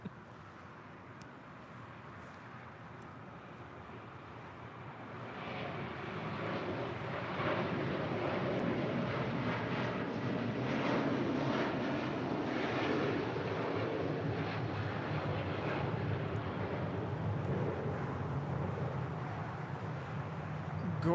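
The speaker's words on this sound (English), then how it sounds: "The Qatar Airways 742 departing to Doha, the A350-1000." Qatar Airways Airbus A350-1000 jet taking off from LAX for Doha, a broad roaring jet-engine rumble heard from a distance that swells and holds steady as the aircraft climbs away.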